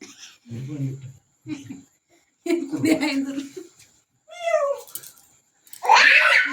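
A cat meows repeatedly in short, close calls with gaps between them, ending in a louder drawn-out cry, while people talk nearby.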